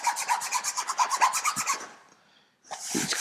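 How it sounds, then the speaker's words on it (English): Fingernail scratching at black-painted fabric headlining inside a VW T5 van, a rapid run of rhythmic close rasping strokes, a brief pause, then another burst of scraping. "If I scratch it, scratches very slightly"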